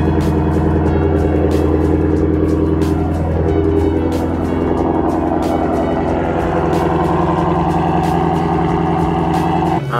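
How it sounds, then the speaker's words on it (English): A BMW F80 M3 engine idles at high revs after a cold start, making a loud, steady, rumbling drone with regular ticking pulses. The sound is close, continuous and unbroken by talk. "Get a little cold start for you guys."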